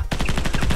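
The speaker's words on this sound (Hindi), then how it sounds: "जैसे मैं गोली चलाऊं तुम दूसरी तरफ भागना शुरू कर देना।" Gunfire in a Hindi-dubbed Hollywood action film, Robot War: after a brief pause, a loud, rapid burst of evenly spaced shots rattles on without a break.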